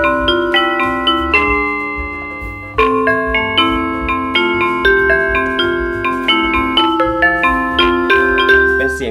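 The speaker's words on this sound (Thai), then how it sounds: "เป็นเสียงมิวสิกบ็อกซ์นะครับ" Music box voice on a Pastel PL88C 88-key digital piano, bright bell-like plucked notes in a tinkling melody with short decays, close and clear, no talk.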